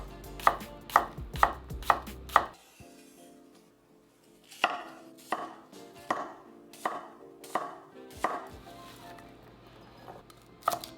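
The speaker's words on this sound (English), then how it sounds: "So I'm just gonna cut it in half, like that, and then into slices." A knife chops through chicken on a cutting board in sharp, close strikes: a quick run of five loud chops, a pause, then a steadier series of slicing thuds, with no talking.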